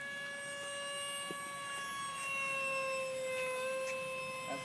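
An FMS F-16 RC model jet flies past near three-quarter throttle, a high, steady ducted-fan whine with tonal harmonics that sweeps slightly in pitch as it passes at moderate distance.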